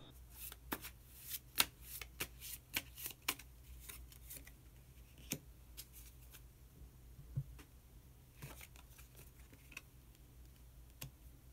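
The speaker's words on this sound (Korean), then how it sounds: "마지막으로 히든 카드 한 장 더 뽑아보도록 하겠습니다" Tarot cards shuffled and drawn for a reading, giving a run of crisp, close riffling snaps and slaps in uneven bursts over a quiet room, with no talking.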